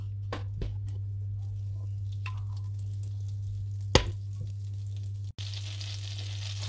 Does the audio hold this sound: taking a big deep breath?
no